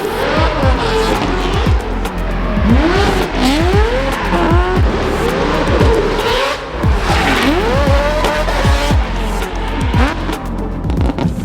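A barn-find Mazda RX7 engine revs hard and close, its loud, continuous roar sweeping up and down in pitch again and again with sharp rising and falling bursts and some squealing edges throughout.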